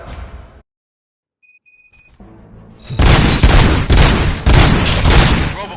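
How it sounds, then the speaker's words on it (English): Burst of rapid gunfire in a Robocop video game, loud and sustained over the last three seconds after a quiet stretch with a few electronic beeps. "Gunshots? What's going on?"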